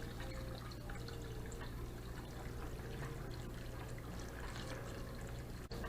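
Water from a fish tank runs through a siphon hose into a bucket, a steady faint pouring trickle with no voices.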